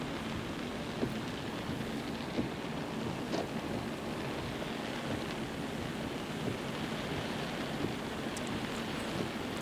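Steady tropical rain in Darwin patters down in a constant hiss, with scattered drips and taps standing out faintly; no voices.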